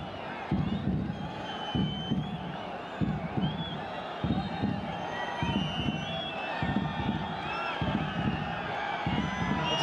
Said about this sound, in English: The crowd comes to life in the last 5 or so minutes of this first half